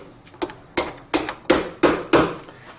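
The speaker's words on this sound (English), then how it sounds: "and I insert that there's my second tool, and I hammer." Five or six sharp metallic hammer blows on a manual gearbox bearing of a Toyota, spaced roughly a third of a second apart, ringing close by with no talking.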